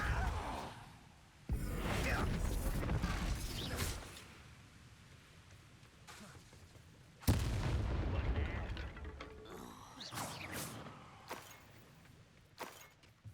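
Spell-casting combat in the Hogwarts Legacy video game, with heavy booming blasts and rushing whooshes arriving in long loud bursts between quieter gaps.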